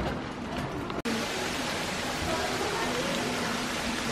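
Rain falling outside a zoo primate house, a steady, dense hiss of downpour heard from under shelter, with a brief dropout near the start and faint voices murmuring beneath the constant wash.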